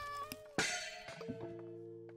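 A cat meows briefly in the horror video game Layers of Fear: Inheritance, a short faint cry among eerie tonal game sounds, a thunk and a light clink.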